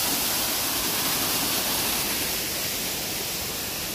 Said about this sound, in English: Here's a nice little waterfall off to the side here at the park of the Pailon Del Diablo.